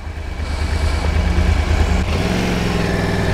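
An overheating Yamaha R1 motorcycle idling with its cooling fan running loudly: a steady, close engine idle beneath a constant whooshing fan roar that swells slightly and then holds even.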